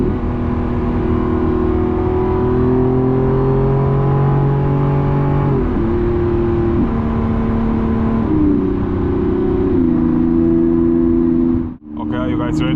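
Loud, steady V12 engine of a 2026 Lamborghini Revuelto droning under load, stepping through several gear changes with pitch shifts, then a sharp downshift blip with a brief dip and burble at the end.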